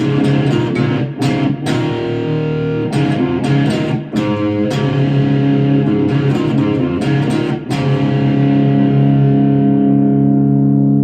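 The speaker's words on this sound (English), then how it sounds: "it's got lots and lots of rectifier distortion" Electric cigar box guitar played through heavy distortion, thick buzzing chords and riffs with brief pauses between strums, loud and sustained with no voices.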